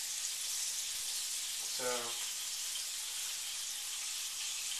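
Bacon crackles in a frying pan with a steady, faint sizzle throughout, while someone briefly says a word midway.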